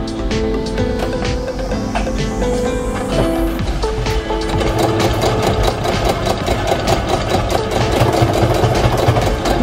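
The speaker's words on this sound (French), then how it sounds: "je couds à peu près à 2-3 mm du bord pour que ça fasse propre" A sewing machine stitches a hem about 2-3 mm from the edge on a camping-car bench cover, with a small label sewn into the fold. The motor drives a continuous, fast mechanical whir and rattle, loud and close throughout.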